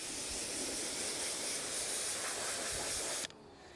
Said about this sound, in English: I'm gonna give this a rinse before it goes back in the bucket.